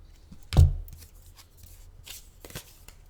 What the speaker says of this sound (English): this is one that you have to shuffle upside down to shuffle it